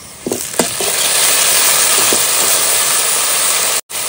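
Chopped onion, ginger, garlic and green chili hit hot oil for a hilsa biryani gravy, a loud, steady hiss that flares with a few clatters at the start and holds evenly, then cuts out briefly near the end.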